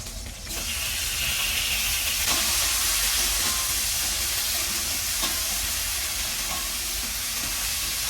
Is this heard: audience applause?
no